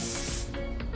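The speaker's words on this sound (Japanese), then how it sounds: "このアルミホイルにスプレーを振っていきます" Soft hair spray sprayed onto a sheet of aluminium foil: a steady close hiss that shifts slightly partway through as the spray sweeps across, heard alone without talk.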